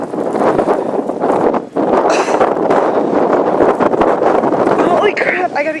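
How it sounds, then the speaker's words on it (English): Strong blizzard wind roars continuously in whiteout conditions, buffeting the microphone with loud broadband rushing, and people shout and exclaim over it throughout. "The wind!"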